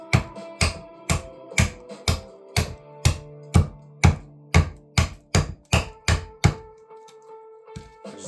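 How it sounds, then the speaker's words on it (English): A large Kissaki friction folder knife chopping, sounding as a steady series of about fourteen sharp, close thunks at a regular beat that stop near the end. "I just love chopping with it."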